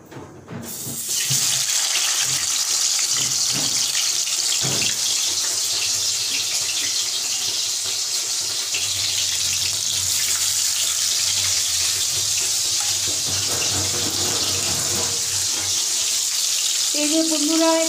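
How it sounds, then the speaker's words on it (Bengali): Fish sizzling as it fries in hot oil in a wok, a steady loud hiss of spattering oil running continuously throughout with occasional clinks. "এই যে বন্ধুরা, কড়াইয়ে মাছ ভাজতে শুরু করে দিয়েছি।"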